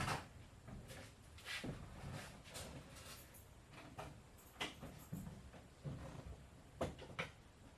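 A garage door is pulled shut by hand in a home garage, giving a run of irregular rattling clunks and scraping bangs at close range, with no talking.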